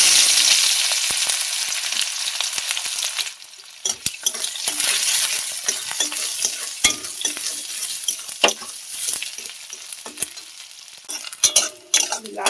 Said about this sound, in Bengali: পেঁয়াজ কুচি রেখে দিয়েছিলাম, এই কটা ভেজে নেব।